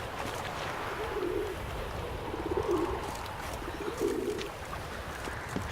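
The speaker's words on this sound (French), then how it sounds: "Pigeons voyageurs." Carrier pigeons coo in The Witcher 3: Wild Hunt, three soft throaty rolling calls spaced about a second and a half apart over a faint washing ambient background.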